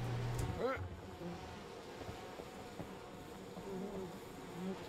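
Bees buzz in the video game We Happy Few, a steady droning hum with a faint, distant quality, running for several seconds behind game sounds.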